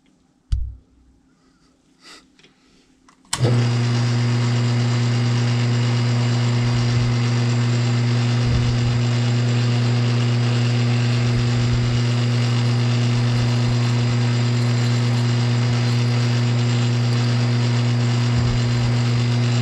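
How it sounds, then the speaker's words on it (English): After some quiet handling noises, a lathe motor starts and keeps running with a steady, loud hum and faint occasional clunks underneath as a center drill bores a hole. "center drill a hole."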